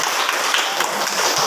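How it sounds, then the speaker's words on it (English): A classroom of students claps together in a lesson, a loud, dense burst of hand claps that holds steady close by for the whole moment. "Give applause to you."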